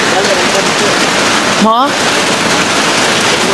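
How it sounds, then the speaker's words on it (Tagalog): Heavy rain falling outdoors, a constant loud hiss of drops that continues throughout, briefly overlaid by a short spoken word near the middle. "Grabe ang lakas ng ulan dito."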